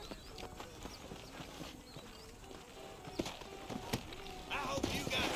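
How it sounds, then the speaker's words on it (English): Horse hooves in the video game Red Dead Redemption clip-clop steadily at a walk, fairly faint under game ambience, and a few sharper knocks come near the end. "Cadê meu cavalo?"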